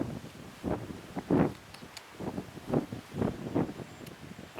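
Wind blowing outdoors into the microphone, rumbling in uneven gusts that swell and fade several times, fairly close and moderately loud, with no voices.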